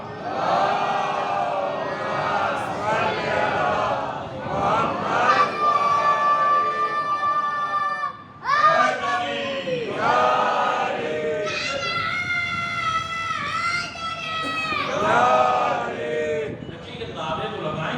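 A congregation at a Muharram majlis chants religious slogans together, loud massed voices rising and falling in rhythmic waves with brief pauses between calls.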